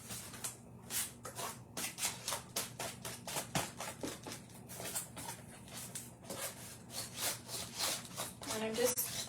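Ground espresso stain is rubbed by hand onto the wooden edges of a vintage-style Christmas tree craft, making rapid rhythmic scratchy strokes, close and fairly loud.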